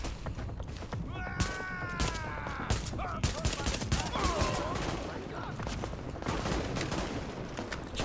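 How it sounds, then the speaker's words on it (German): Sharp pistol shots crack in irregular bursts during a Tom Clancy's The Division firefight, mixed with impacts and game effects, while someone speaks over the action. "knalle ein bisschen mit meiner Pistole herum"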